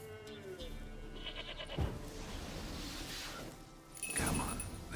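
A goat bleats in a video game, a single wavering cry set among game music and ambient effects, with a thud and a swoosh nearby.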